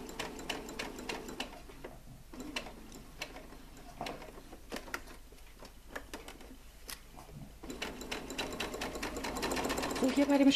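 Sewing machine running in bursts of rapid stitching while guiding fabric carefully around the outline of a fabric dragon toy, with pauses between runs and a voice talking over it.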